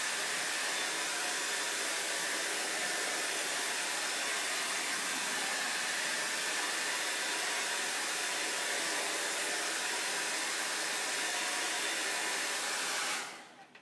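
A hair dryer blows steadily to dry freshly painted furniture, a loud, continuous broadband whoosh with no breaks that cuts off abruptly at the very end.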